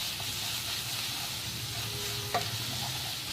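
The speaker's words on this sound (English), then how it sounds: "First we will start by putting in this ginger, garlic and green chili paste. we'll give this a nice fry" A ginger, garlic and green chili paste fries in a pan with a steady, close sizzle, broken once by a brief clink of a utensil.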